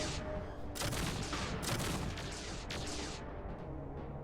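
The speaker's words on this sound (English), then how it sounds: "I feel like the Pulse lasers are shooting a little slow." Pulse lasers fire in rapid bursts in the video game MechCommander 2, a dense crackling barrage of weapon shots with booming impacts that continues throughout, without speech.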